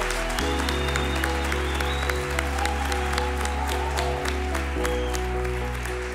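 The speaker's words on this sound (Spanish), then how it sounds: "Este aplauso para todos ellos." Applause from a theater audience at a televised Spanish talent show audition, sustained clapping spread across the hall beneath a loud, steady sustained musical drone, with no voices on top.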